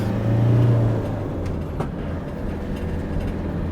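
A 2002 Autosleeper Talisman motorhome on a Peugeot chassis with a 2.8 turbo diesel, accelerating: a low, steady engine drone that swells early, then settles into a constant rumble.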